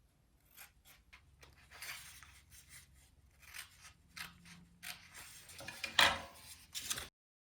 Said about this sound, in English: You cut strips of it like this.